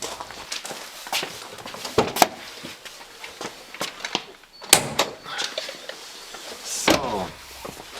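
A Land Rover Discovery 4 bonnet with weak gas springs being opened, heard as a series of sharp latch clicks and metallic clunks at irregular intervals, close by, with no talking.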